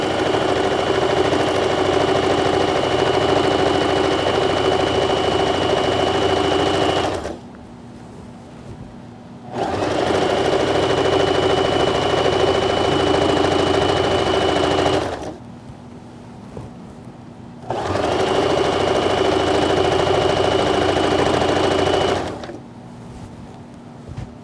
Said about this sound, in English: just sewing around a curve